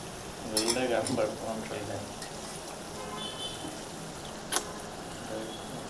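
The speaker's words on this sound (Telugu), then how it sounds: "అల్లం పై వేగింది కదా రొయ్యలు వేస్తున్నాను" Raw prawns dropped into a hot pan over fried ginger for a prawn curry, sizzling and stirred with a few utensil clinks and a sharp knock, under a steady frying hiss.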